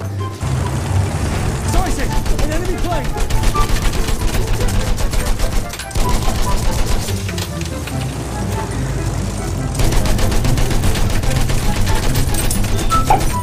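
Bursts of rapid gunfire in Battlefield 1 multiplayer crackle loudly and repeatedly, with a brief pause midway, over a busy mix of engine and effect noise.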